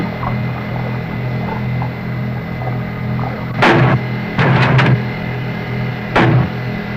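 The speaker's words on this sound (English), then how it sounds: "Warning shots fired in the air are the signal for a suspicious craft to stop and identify itself." Warning shots are fired into the air from a Vietnam War river patrol boat, three sharp bursts over a steady engine hum, the middle one a short rattling volley, close and loud, with no talk.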